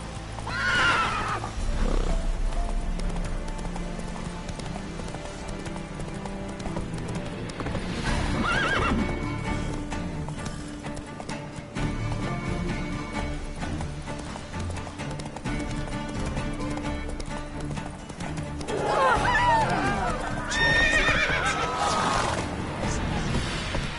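A horse in the video game The Witcher 3 gallops with a steady, dense clip-clop of hooves throughout, loud and close, with whinnies breaking in at a few points over the running.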